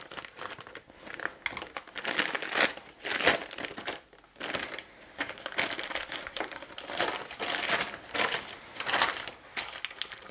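A plastic bag crinkles and rustles steadily as coloured chantyflex cream is packed into it in rows, with busy, close crackling bursts continuing for about ten seconds and no voice.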